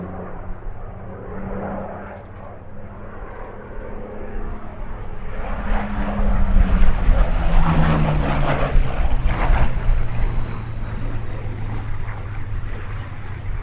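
A propeller aircraft flies a display at the Duxford airshow under an autumn sky. Its engine drone builds from a distant hum to a loud, close pass midway, then carries on strongly.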